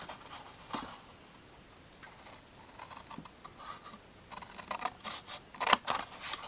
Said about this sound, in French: je vais couper une toute petite languette et je les collerai à l'intérieur après